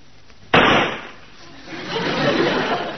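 A single gunshot cracks sharply in a TV comedy scene, a sudden loud bang that decays quickly, followed by quieter room noise and faint rustling.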